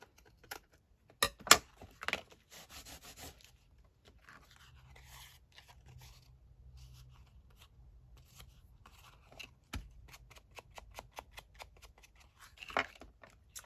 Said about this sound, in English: just snip that off at the back